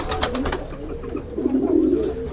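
Soft, low cooing from an Australian bull pigeon in a fancier's loft, a few mellow rolling coos close by with a few brief sharp taps at the start, no talk.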